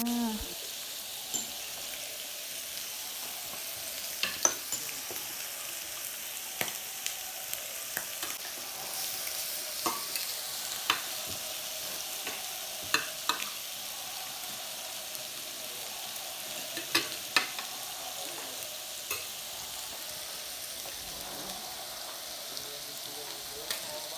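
Beef grills on a hot surface with a continuous soft sizzle broken by occasional sharp pops and crackles, steady and moderately quiet throughout.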